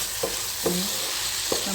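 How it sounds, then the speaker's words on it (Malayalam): Tomato curry sautéed over a high flame in an open pan crackles with a constant bright sizzle, while three spaced knocks of a stirring spoon sound close by. "ഹൈ ഫ്ലെയിമിലിട്ട് നന്നായി വഴറ്റി കൊടുക്കുന്നുണ്ട്"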